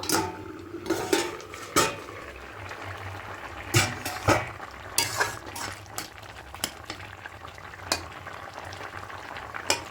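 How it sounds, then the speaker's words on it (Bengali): A metal lid lifted off a pot of half-boiled potatoes cooking with small fish, clattering with sharp clinks and knocks over a steady bubbling simmer and sizzle, close by. "ঢাকাটা খুলে নেব"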